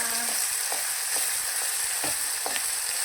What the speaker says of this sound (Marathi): असं हलवून घ्यायचं. गुलाबी रंगापर्यंत परतून घ्यायचं मस्तपैकी.